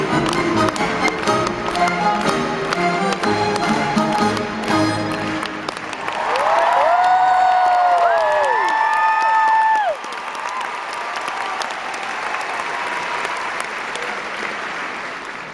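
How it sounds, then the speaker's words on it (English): Arena audience at a big musical theatre night in Manchester bursts into loud, sustained applause and cheering, swelling midway over bright sustained music tones before easing to a steadier roar of clapping. "Let's have a massive round of applause, everybody!"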